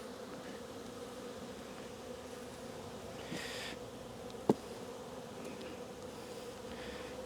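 Honeybees hum faintly and steadily during a hive inspection, with one sharp click midway and brief soft rustles, quiet and without talk.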